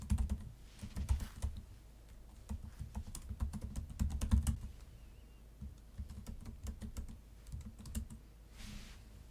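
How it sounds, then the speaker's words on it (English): Steady run of keystrokes on a computer keyboard as an email address is entered, soft close clicking in uneven bursts with brief pauses, no voices. "I'm going to go ahead and type in my email account."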